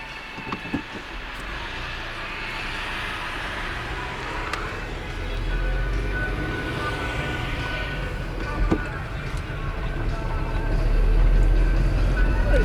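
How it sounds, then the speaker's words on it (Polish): A narrow-gauge train on the Wiślica–Pińczów line in Poland rumbles past steadily with low clattering and rising roar, growing louder toward the end; voices can be heard faintly at times. "Uwaga, pociąg."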